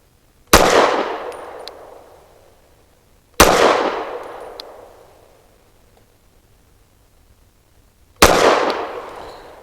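Three sharp, loud 115-grain Hornady American Gunner rounds fired from a BRG9 Elite Gen 2 pistol at an outdoor range, each crack decaying over a second or two, spaced irregularly with quiet gaps between.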